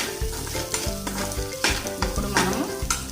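Semiya egg noodles sizzle loudly in a pan while a spoon scrapes through them in quick, repeated stirring strokes, close up with no talking.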